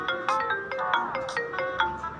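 A phone rings with a bright, repeating electronic melody of short tones, fairly close and alone.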